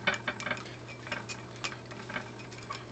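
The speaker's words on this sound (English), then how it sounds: "And then I'm just going to stir up this homemade sauce." A utensil stirs a homemade lemon and soy dipping sauce in a bowl, producing faint, irregular clinks and taps over a low steady hum.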